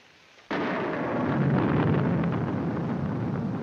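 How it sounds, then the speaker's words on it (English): A sudden loud thunderclap crashes in after near silence, then rolls on as a broad, sustained rumble that slowly fades, heard alone. "I'm afraid of the thunder and lightning."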